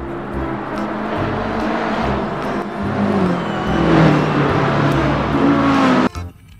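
A toy race car gives a loud, continuous revving engine whine with rising and falling pitch for about six seconds, then cuts off abruptly.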